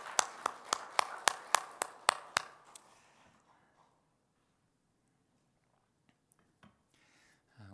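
A small church congregation gives a short round of claps during a service, about ten sharp, evenly spaced claps close by that stop abruptly, then near silence with a few faint thumps.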